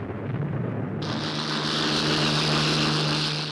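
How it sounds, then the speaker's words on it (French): Luftwaffe aircraft of 1944 take off from makeshift, half-flooded airfields, a continuous loud propeller engine roar that swells and brightens after about a second and holds steady with no talk. "Sur des terrains de fortune à moitié inondés, les rares survivants de la Luftwaffe décollent pour une dernière mission à 1 contre 10."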